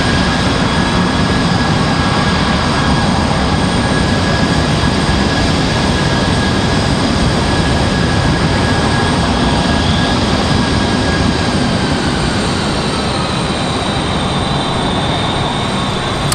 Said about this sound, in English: We've got another E175 about to push for United, for the United Express.